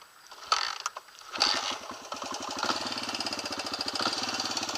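A motorcycle engine catching after a few mechanical clicks and clunks, then settling into a fast, even idle with rapid regular pulses, close by and with no talk.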